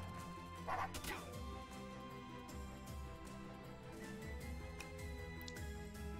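Dog units bark and yip in the turn-based strategy video game Wargroove, short bursts over steady game music, with someone talking over the battle sounds.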